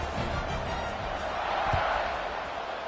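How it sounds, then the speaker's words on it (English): A football crowd buzzes after a score, a dense continuous roar that holds at an even, loud level throughout. "this crowd is buzzing after that last score"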